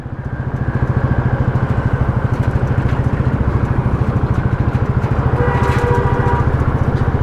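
A motorcycle engine running during a test ride, a close, loud and steady rhythmic putter with a fast regular beat that holds throughout, and no talking.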